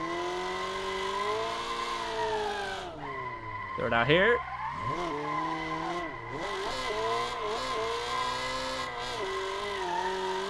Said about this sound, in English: All the tire noise from this car.